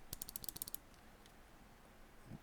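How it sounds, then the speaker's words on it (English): A Glorious Model O gaming mouse's right button clicks rapidly about nine times in a tight burst, crisp and close but quiet, followed by near silence and a faint soft thump. "right click,"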